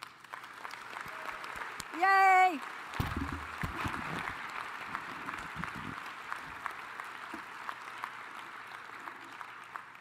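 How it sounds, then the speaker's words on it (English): Applause fills a convention hall at a veterans' national convention, steady and moderately distant, with a single voice cheering loudly near the start over the clapping. "Please join us in giving you a huge, huge round of applause."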